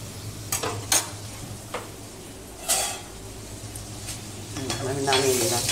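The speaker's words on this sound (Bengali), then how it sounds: "লালচে লালচে করে ভেজে নিলাম" Potatoes frying in oil in a pan, a soft sizzle broken by several sharp clinks and scrapes of a utensil against the cookware, with the frying growing slightly louder at the end.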